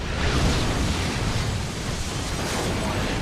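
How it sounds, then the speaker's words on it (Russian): Explosion in the video game Max Payne, a sustained loud roaring rumble of broad noise that stays dense and steady for several seconds without distinct separate blasts. "А чё так взрывается?"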